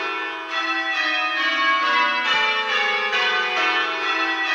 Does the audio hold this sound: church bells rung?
yes